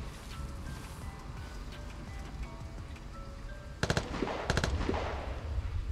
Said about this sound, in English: Okay, he's shooting at somebody. That's for sure.